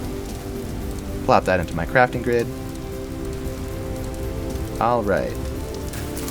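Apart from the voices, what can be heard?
rain in the video game Vintage Story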